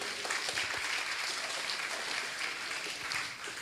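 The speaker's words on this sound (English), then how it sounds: "Give applause to both of them" Audience clapping steadily at an online international conference on tropical studies, broadband and dense throughout, sustained without a break and fading slightly at the end, with no talk over it.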